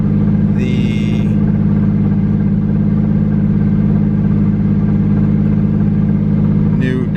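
A Nissan S15 Silvia's engine drones steadily on a hub dyno, a loud sustained mechanical roar holding through the whole run with a couple of brief higher whines near the start and end.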